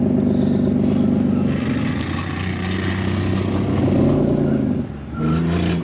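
A manual car's engine is held at steady revs while a learner eases the clutch out for a drift attempt. The drone is loud and continuous, rises slightly, and dips briefly near the end before picking back up.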